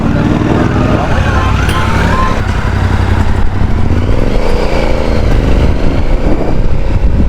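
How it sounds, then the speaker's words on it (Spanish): Dense crowd of motorcycles fills a busy city street in Karbala at night, engines droning and revving continuously with rattling clatter, close by and loud, with voices mixed into the traffic. "hay un montón de motos, madre mía, qué follón"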